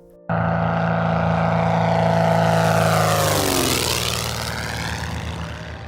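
A Globe Swift, a small classic propeller airplane, cuts in with a loud, close engine drone that holds steady and then drops in pitch as it sweeps past, fading slightly at the end.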